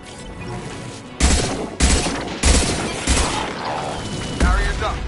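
Gunfire in the Mass Effect 2 video game, heavy booming shots landing at irregular intervals of about a second, each loud burst decaying into a noisy rumble, with a voice speaking briefly in the game's soundscape.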